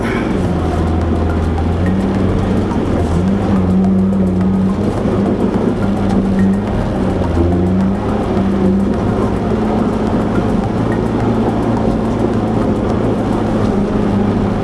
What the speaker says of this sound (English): Wheels spinning all the way up.